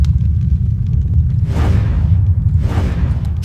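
Lightning attack cast with the Claw of Beliar in Gothic 2, two loud crackling whooshes about a second apart over a constant low rumble of background game sound.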